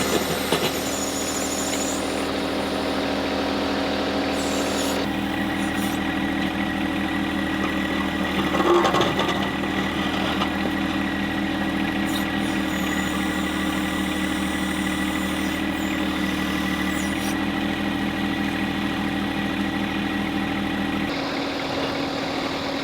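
A backhoe engine runs steadily at close range while a trenching bucket digs a trench about 25 feet long in hard, poor soil, giving a constant droning rumble with a brief louder surge midway and no talk.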